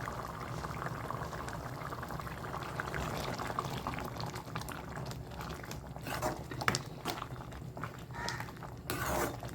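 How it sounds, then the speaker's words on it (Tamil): Spinach kootu made from ponnanganni greens bubbling in a pot, a continuous close burble of boiling liquid with small pops and a few louder splashy bursts toward the end, no talking. "அஞ்சு நிமிஷம் நல்லா வந்து கொதிச்சிருச்சு"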